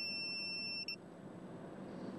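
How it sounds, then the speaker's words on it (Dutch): A drowsy-driver warning device worn behind the ear emits a high-pitched steady alarm beep for under a second, then cuts off, leaving quiet background hum with no talk. "En dan gaat er onmiddellijk een alarm af. Een hoge pieptoon waar echt niemand doorheen kan slapen."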